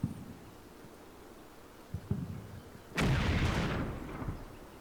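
A tank in a strategy video game fires: one loud, broad blast with a rumbling tail near the middle, preceded by quieter thuds over a low background hiss.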